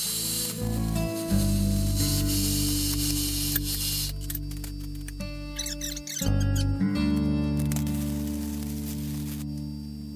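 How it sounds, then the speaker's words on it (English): Metal cutting saw finishing a cut on steel hoist mounts while stick welding with 7014 3/32 rod runs alongside, a steady harsh whine and crackling sizzle that shift and stop abruptly midway, then resume. "I'm going to turn the saw back on and let it finish making this cut while I weld up the next 2."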